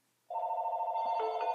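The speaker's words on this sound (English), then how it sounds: "phone is ringing, and it's another doctor's office" A telephone rings in a home, a steady electronic tone starting abruptly after a brief silence and continuing loud and close with no talk.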